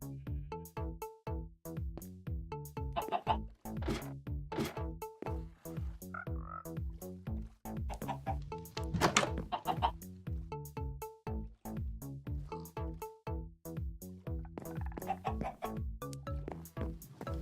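A Minecraft frog croaks at a farm pond in quick, steady repeated bursts that never stop. The croaks are close and clear, with other game sounds faintly underneath.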